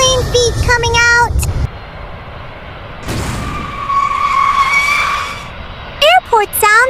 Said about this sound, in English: Big airplane feet coming out!